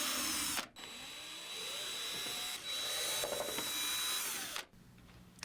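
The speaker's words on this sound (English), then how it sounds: "Start by removing the 4 top cover screws" A cordless power driver backs out the top cover screws on a Minn Kota Terrova trolling motor, giving loud, close, steady whirring bursts with brief pauses between screws.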